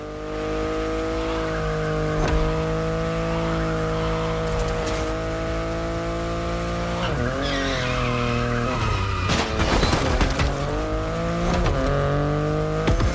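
A BMW i8 is driven in the video game The Crew Motorfest, its engine holding a steady hum with shifts in pitch, while tires squeal and skid through several sharp turns.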